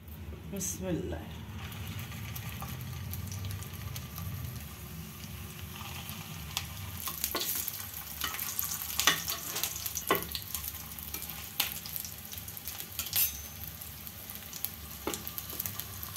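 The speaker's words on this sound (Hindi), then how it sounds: "शामी मोटी बनाए तो थोड़ा सबर से तल लो" Thick Hyderabadi mutton shami kebabs made with roasted chana dal fry in oil, a steady low sizzle broken by sharp crackles and pops, heard close while someone talks.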